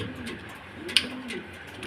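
Pigeons coo softly and continuously in a close, steady murmur, with one brief sharp click partway through.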